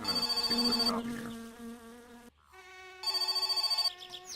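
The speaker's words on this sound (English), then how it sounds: "that freaking phone" An old landline telephone in a rural Finnish home rings in bursts of fast trilling bell tones, loud and close, with a short silent gap between rings and the next ring starting again.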